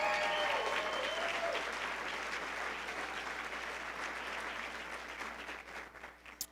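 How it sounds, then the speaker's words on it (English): Applause from a gala audience celebrating a 2024 Olympic team member, steady and fairly dense, fading gradually toward the end with a few last isolated claps. "So give her a round of applause"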